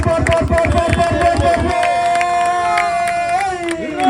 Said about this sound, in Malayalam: ഒന്ന് കൈയടിച്ചു കൊടുത്ത് ഒന്ന് ആർത്തി വിളിച്ചു കൊടുത്ത്